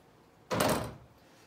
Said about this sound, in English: He knows how to open doors.